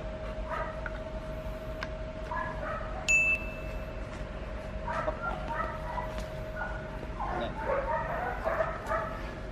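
A Malinois dog during grip training lets out scattered short barks, yips and whimpers, close by and moderately loud, with a brief high squeak partway through over a steady background hum.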